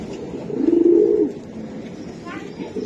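A racing pigeon gives a single low, throaty coo close by that swells and then fades, with faint room noise afterward and no talk.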